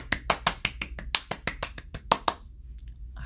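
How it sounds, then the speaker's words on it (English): Children clap along at a story-time music session, about fourteen quick, crisp claps in a brisk rhythm that stop abruptly, leaving near silence. "Let's hear your big clap."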